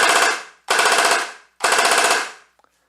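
A G&G MG42 airsoft gun, tuned for a faster rate of fire, fires three loud, close bursts of rapid rattling full-auto shots with short gaps between them.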